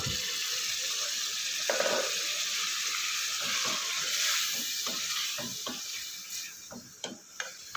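Water pours steadily into a pot of simmering masoor dal, with a soft gurgling rush and light stirring sounds; close by, no one speaking.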